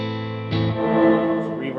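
An electric guitar rings out through a 30-watt amp with 6L6 power tubes, a sustained chord followed by a fresh strum midway, thick with harmonics and a trace of effects.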